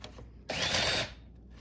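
A power drill whirs loudly for about half a second, boring into wood, then cuts off, leaving a low background hum.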